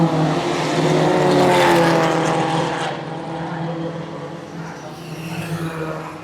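A Toyota AE86 fitted with a Honda F-Series engine from an S2000 runs loud and steady at a classic car festival, its engine note rising and then easing back, with crowd noise and voices in the background.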